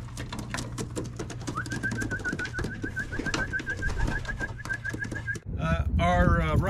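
Racing pigeons coo and flutter around a loft trap during trap training, with a steady whistle-like tone and wing claps, and someone talking over them.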